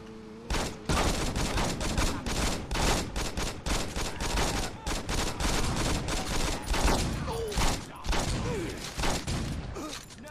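Gunfire in the video game Saints Row 2, with a dense, continuous barrage of shots and impacts running loud throughout and a voice speaking briefly over it.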